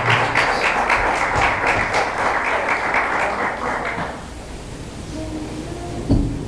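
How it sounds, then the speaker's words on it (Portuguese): A church congregation breaks into dense, steady applause that lasts about four seconds and then fades out, leaving quiet room tone and a faint voice. "Dê uma salva de palmas para Jesus."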